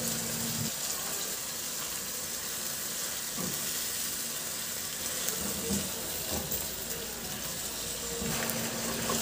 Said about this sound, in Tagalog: Ihalo lang hanggang sa mag-iba na ang kulay ng manok o hanggang sa maglabas na rin yung sarili niyang mantika.